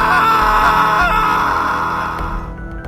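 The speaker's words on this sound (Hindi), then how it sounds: "रोहन चीखता है" A man's drawn-out scream of terror in a horror story about a snake wife, loud and sustained for nearly three seconds before trailing off, with a dense harmonic wail over a dark sound-effect bed.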